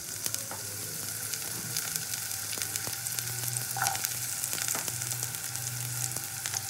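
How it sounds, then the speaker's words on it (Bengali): Chopped carrots fry in hot oil for masala rice, giving a steady, close crackling sizzle with scattered sharp pops throughout and no voices. "এবার একই তেলে আমি গাজরটা দিয়ে দেবো প্রথমে।"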